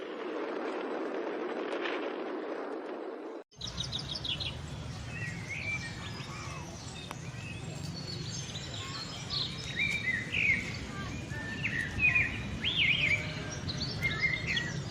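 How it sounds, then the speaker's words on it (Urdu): Birds chirp and sing at a distance in a rainy outdoor setting in Taxila, with scattered high calls over a steady wash of rain and ambient noise, after a short stretch of muffled rumble. "پرندوں کی خوبصورت آوازیں آپ کو اسی صورت آ سکتی ہیں جب پرندوں کو آپ ایک قدرتی ماحول دیں گے۔"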